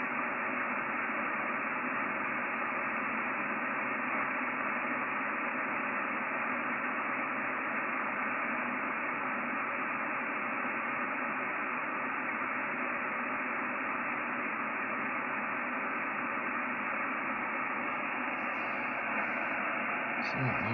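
Steady band-limited radio static hisses from a 910 transceiver tuned to receive the RS44 satellite, an unbroken flat noise with no clear signal.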